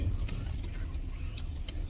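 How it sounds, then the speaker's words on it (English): Low, steady road rumble of a car heard from inside the cabin while driving, a continuous engine and tyre drone with a few faint higher clicks, no voices. "I am in my mother's car"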